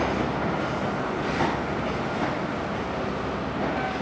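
A train with HST power car 43042 on the rear rumbles through Worcester Shrub Hill station, a steady low roll of wheels and engine with faint rail clatter, moderately near and without speech.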